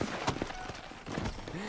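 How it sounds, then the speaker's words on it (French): A horse in Red Dead Redemption moves with a few soft hoof clops and shuffling steps, faint and close over a dense game ambience, with a brief snort-like tone near the end. "mon cheval est vivant"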